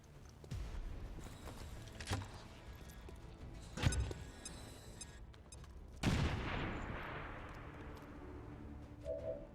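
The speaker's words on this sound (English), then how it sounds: "Grenade out!" A grenade bursts in the strategy game Long War 2 with a sharp, booming blast that leaves a rumbling decay, amid scattered gunfire cracks and a few other loud impacts, fairly close and without talk.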